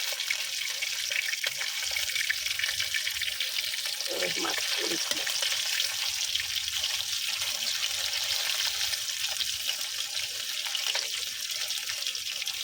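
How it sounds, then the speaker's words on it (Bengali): Kalbaush fish frying in a pan, giving a steady loud hiss and crackle of hot oil throughout, with a brief spoken voice partway through. "তো এক পিঠ হয়ে গেছে, একটু লাল লাল করে যে ভাইজা নিতেছি।"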